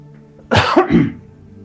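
A single close, harsh cough from a preacher during a sermon, a quick double burst, stands alone against a quiet background.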